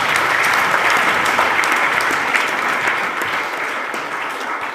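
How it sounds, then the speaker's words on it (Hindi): Congregation applauding during a spiritual talk, a loud, continuous wash of many hands clapping that holds steady for several seconds and eases slightly toward the end, with no voices over it. "ताली बजाइए प्रभु के लिए।"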